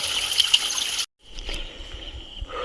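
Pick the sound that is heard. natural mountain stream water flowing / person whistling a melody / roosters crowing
natural mountain stream water flowing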